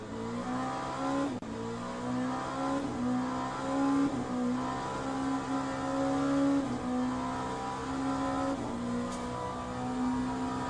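An LMP2 prototype race car engine at Bahrain in Le Mans Ultimate drones loudly and rises and falls through gear shifts, with repeated revving sweeps and brief dips as it brakes and accelerates.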